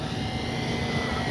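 Dynam DHC Beaver V2 RC plane coming in to land on a runway, its propeller and electric motor producing a steady, fairly close droning whine with constant loudness throughout.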